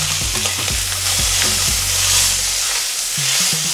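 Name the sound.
entrecote steak sizzling as it is flipped in a pan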